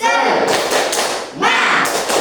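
Classroom group cheer clapping: two loud bursts of rhythmic claps and thumps, each mixed with a voice shouting, with a short dip between them.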